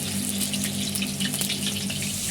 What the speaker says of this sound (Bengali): তেলের মধ্যে একদম আলু যেতে না যেতেই চড়বড় করে ফাটতে শুরু করে দিয়েছে